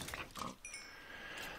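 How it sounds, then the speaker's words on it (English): A pig grunting in Minecraft, a couple of short oinks up close, followed by a faint tonal chime fading out. "Oh, and the pigs are down here still, too."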